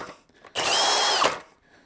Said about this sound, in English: you can drill through the ice pretty good with one of those